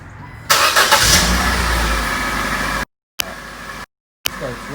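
A 2001 Saturn S-Series car engine cranks and catches, then runs steadily at a loud, close idle, with two brief gaps of silence near the end.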